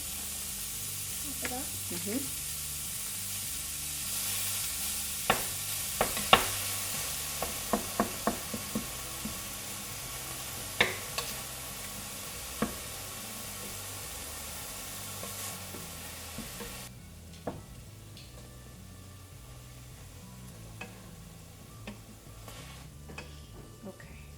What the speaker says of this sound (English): you're gonna turn your heat to medium heat on the stove, and we are going to start browning our meat.